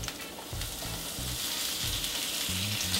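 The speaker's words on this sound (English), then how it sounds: "And I'm gonna cook it around for a little bit" Sliced onions fry in a pan, giving a steady, loud sizzle with low thumps and scraping as they are stirred around, with no one speaking.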